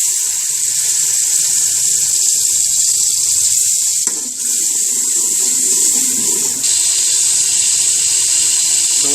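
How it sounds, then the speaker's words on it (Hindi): Green chili water poured into a cooking pan of softened tomatoes, ginger-garlic paste and green chilies gives a steady, close hissing sizzle that runs throughout, with a brief disturbance midway. "ये है हरी मिर्चों का पानी।"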